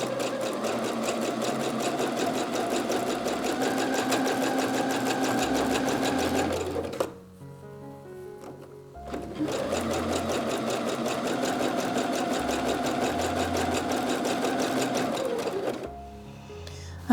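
A sewing machine stitches elastic onto fabric for underwear, running in a steady, fast mechanical chatter for about seven seconds, pausing briefly, then running again at the same pace before stopping.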